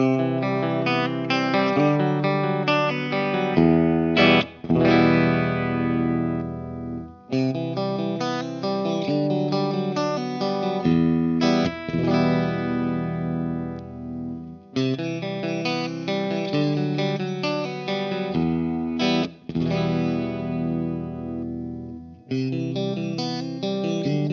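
A Mooer GTRS S900 electric guitar played clean through a direct DI, strumming sustained chords that shift tone as it moves through the pickup positions, with several short breaks between phrases, loud and close with no talking.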